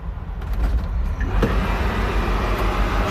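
A Greyhound Prevost coach's diesel engine cranks and catches, settling into a steady, loud low rumble that fills the whole stretch, with a brief mechanical knock partway through.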